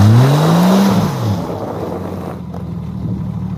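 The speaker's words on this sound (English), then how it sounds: "I'm going to smash the throttle." A Jeep 4x4 engine is revved hard as the throttle is floored in two-wheel drive, a loud close roar rising in pitch at first, then settling into a steady sustained drone with some wind buffeting.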